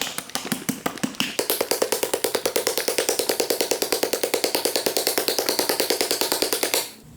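Rapid, steady rattling of a bottle of headlight restoration product being shaken hard, dozens of evenly spaced clacks at close range that speed up slightly and stop abruptly.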